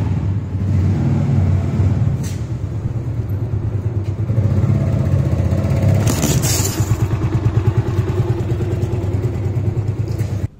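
A motorcycle rides over a Mivi Roam 2 5W Bluetooth speaker, its engine idling loud and close, then revving with a chattering pulse and a clatter as the bike runs onto the speaker.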